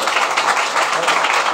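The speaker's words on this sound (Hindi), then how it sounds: "शोर का ताली बजाएं।" Congregation clapping along during a church service, a dense steady patter of many hands filling the room, with voices mixed in.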